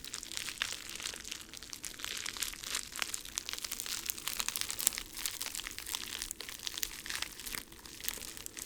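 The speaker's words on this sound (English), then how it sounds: "Perhaps a bit more crinkling will give it the necessary motivations." Close, continuous crinkling and crunching of crinkly material near a Pokémon egg in an ASMR roleplay, dense and irregular with frequent sharp crackles.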